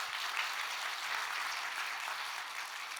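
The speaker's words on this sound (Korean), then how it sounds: "박수 한번 합시다." Steady church congregation applause, a dense even wash of many hands clapping at moderate distance, no talking over it.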